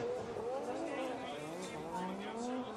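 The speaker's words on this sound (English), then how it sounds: "That was a big understeer there for him" A Formula Drift Japan car running wide at Ebisu in a big understeer during a qualifying run, engine roaring with sustained tire squeal under continuous commentary.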